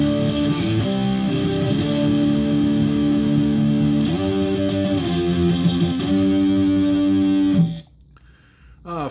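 Electric guitar played through a Fender Twin Reverb amp model with a clean, bright tone and chorus-like shimmer, steady chords ringing for several seconds before stopping abruptly.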